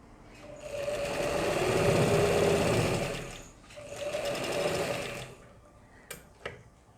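A sewing machine stitches a zipper, the needle running beside the presser foot in two steady buzzing bursts of a few seconds each, close and loud, with a brief pause between them and a couple of small clicks at the end.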